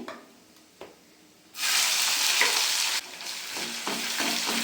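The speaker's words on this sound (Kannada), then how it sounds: "ಈರುಳ್ಳಿ ಚೆನ್ನಾಗಿ ಫ್ರೈ ಆಗಬೇಕು" Onions and chana dal fry loudly in a hot pan, a sudden burst of steady sizzling after a quiet start, with stirring scrapes and slight dips in the hiss.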